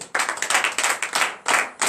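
Church congregation at a morning prayer service clapping in acclamation, rhythmic bursts of hand claps in a quick repeating pattern, close and loud, with brief pauses between groups.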